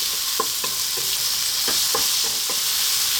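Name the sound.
onions and Kalamata olives cooking over lively heat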